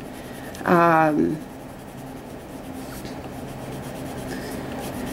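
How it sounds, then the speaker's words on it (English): A white colored pencil burnishes across paper with a faint, continuous soft scratching and rubbing, close up, after a brief spoken word near the start. "So I'm going in with my white and burnishing a bit."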